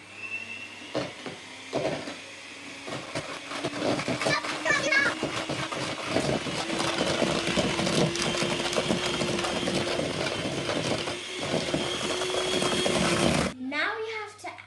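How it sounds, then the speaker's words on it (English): Electric hand mixer whirring steadily through egg yolks in a mixing bowl for coconut muesli squares, a continuous motor whine with scraping bursts and a voice talking over it. "Using an electric mixer, you're going to want to combine these together."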